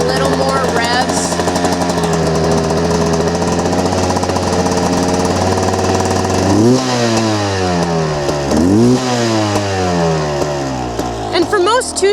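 A cold two-stroke dirt bike engine idles loudly up close, then revs up sharply several times, its pitch climbing and falling back in quick surges.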